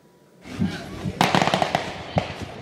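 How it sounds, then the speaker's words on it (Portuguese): Fireworks go off outside during a police operation in a Rio de Janeiro favela, a rapid string of sharp cracking pops following a rising whoosh, loud and somewhat distant. "Fogos de artifício anunciam a chegada da polícia."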